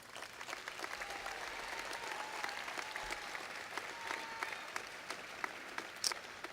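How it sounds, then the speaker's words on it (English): Steady applause fills a 2016 Fargo South High School graduation ceremony. A large audience claps continuously, sounding somewhat distant and soft, with a few sharper claps standing out near the end. "please give a round of applause to all of the alumni and all of our welcome friends here today"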